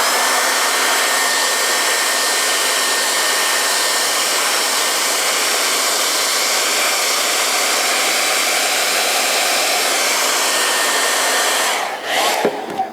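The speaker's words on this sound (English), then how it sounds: "we're going to use a hair dryer to dry that" A hair dryer blows steadily on a folded sinamay strip, giving a loud, constant rushing whoosh. It runs unbroken for about twelve seconds, then cuts out with a few brief clicks and handling sounds.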